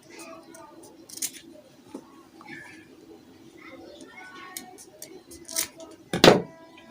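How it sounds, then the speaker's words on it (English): Scissors trimming excess fabric from a freshly stitched scrunchie headband, a few soft close snips with a sharper cut near the end, under a quiet room tone. "I'll just use my scissors and trim out this excesses here."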